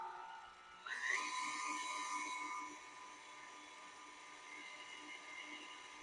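Electric mixer whirring as it starts up to beat wet ingredients for maple brown sugar cookies, a sudden rise to a steady high-pitched motor hum that softens and keeps running at a lower level.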